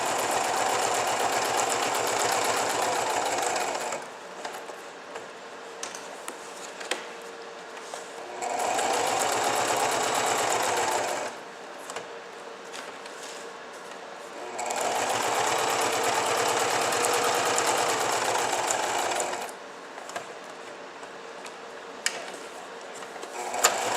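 A sewing machine stitches a scrapbook layout of vellum and paper in repeated bursts of steady, fast mechanical whirring, each run a few seconds long with short quiet pauses between, close up and alone.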